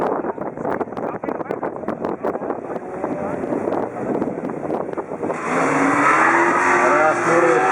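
Engines of a Mazda RX-7 and a big Cadillac at a quarter-mile drag race roar and rev, swelling louder toward the end, under a commentator's voice and gusty wind.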